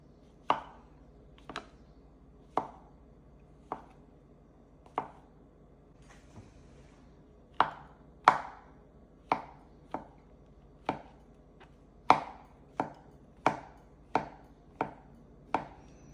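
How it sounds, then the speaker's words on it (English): A knife cuts mushrooms on a cutting board in about twenty crisp, close taps, spaced unevenly at first and then coming quicker, over a quiet background with no speech. "Cut it in half, and then slice them very thinly, just like that."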